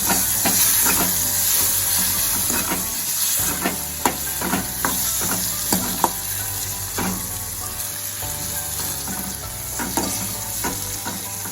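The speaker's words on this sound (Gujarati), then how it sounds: "હવે આપણે જે ટમેટા લીધેલા છે તે એડ કરીશું મિક્સ કરી લઈશું" Tomatoes sizzle loudly in a hot pan for Kathiyawadi sev tameta shaak, with frequent quick spatula taps and scrapes over a continuous steamy frying hiss.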